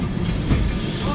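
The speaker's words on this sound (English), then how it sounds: "this little ancient train that's going around the city." An old tram rolls through Lisbon streets, a loud, close, continuous rumble and rattle of wheels and body filling the whole short stretch.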